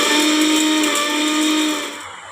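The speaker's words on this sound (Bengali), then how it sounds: "শুকনো কলায় ভেজে রেখেছি, এটাকে আমি গুঁড়ো করে নেব" Electric grinder whirring steadily as it powders dry-roasted spices, a loud continuous motor drone that winds down toward the end.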